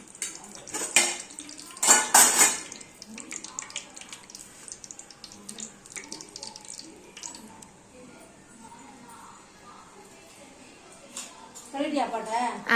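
Clinks and scrapes of utensils against a clay pot as sesame oil heats and fenugreek is tempered for fish curry, with sizzling and stirring sounds, while a person talks nearby; clatter is busiest early, then quieter.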